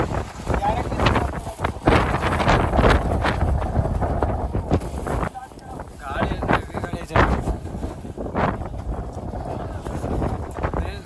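Heavy gusting wind roars and buffets loudly across a hilltop on the way to the Seethalayanagiri temple near Mullayanagiri in Chikmagalur, rising and falling in strong surges with a brief lull midway; a voice speaks between gusts.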